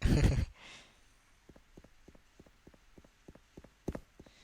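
Footsteps of an enemy soldier in the Thai online shooter Special Force (SF), a steady run of light taps near to mid distance after a brief loud burst at the start, with no voices.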